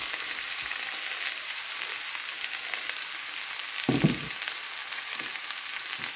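Crumbled idli fries in a hot pan for upma, giving a steady close sizzle with a short burst of stirring scrape partway through.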